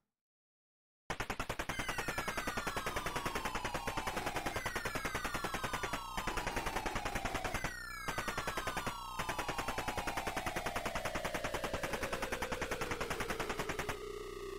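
Rapid-fire shots from a retro arcade-style video game rattle on without pause, a loud, steady electronic burst stream over falling synthesized tones, with a couple of brief gaps.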